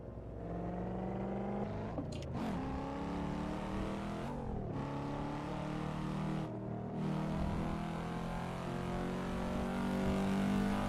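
A Cadillac CT5-V Blackwing in the Assetto Corsa racing game gives a steady, loud engine drone with rising and falling revs and brief gear-shift dips, heard alone.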